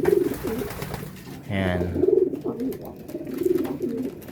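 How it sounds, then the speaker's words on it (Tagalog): Racing pigeon back at the loft, soft repeated cooing from nearby pigeons in low rhythmic bursts, with someone talking briefly over them. "Nakuha na niya yung ibon niya, yung isa."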